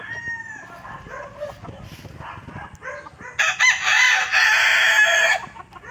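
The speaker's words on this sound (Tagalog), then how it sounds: "Ayun, daming manok dito" Roosters crow loudly and clearly at a chicken farm, one long cock-a-doodle-doo standing out near the end over scattered clucking from many birds and a dog barking in the background.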